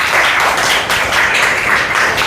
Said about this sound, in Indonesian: Iya, tepuk tangan untuk kelompok 3.